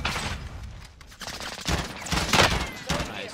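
Rapid bursts of automatic gunfire and scattered shots rattle through a Call of Duty Warzone quads match, loud and close, with overlapping volleys and distant booms.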